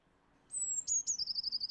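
A garden bird in Wallonia or Brussels sings a thin high whistled note that slides down, then a rapid run of repeated chirps, fairly close and clear over a quiet background without talk.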